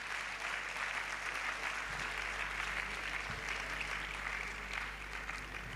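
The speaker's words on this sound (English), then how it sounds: "Please put your hands together for them as they return to their seats." An audience applauds debate teams returning to their seats at an inter-university debate competition, a steady, even roar of clapping throughout, somewhat distant and hall-filled.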